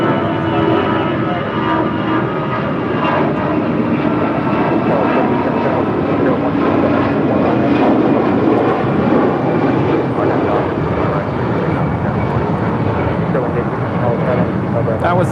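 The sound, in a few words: American Airlines Airbus A319 departing to Phoenix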